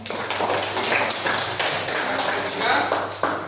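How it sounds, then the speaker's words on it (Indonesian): A group of people applauds a presenting group at a PPG teacher performance exam session in a classroom at UIN Raden Fatah Palembang. Dense, steady clapping fills the whole stretch over a low constant hum. "Kasih aplaus."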